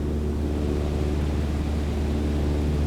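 A Cessna 152 engine in Microsoft Flight Simulator holds a steady, droning propeller hum from the cabin, low and unchanging with no break throughout.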